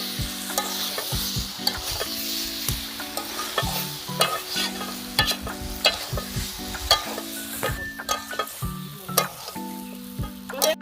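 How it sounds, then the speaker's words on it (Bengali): Prawns and jackfruit with potato stir-fry loudly in a pan, the strong sizzle broken by frequent clattering scrapes and knocks of a spatula against the metal. "এবার আমরা চিংড়িটাকে দিয়ে দেবো। এটাকে এবার ভালো করে কষে নেব।"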